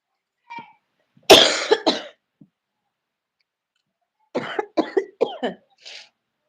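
A person with a heavy cold and sore throat coughs close to the mic, one hard burst of coughs followed later by a rapid series of shorter coughs and a throat clear.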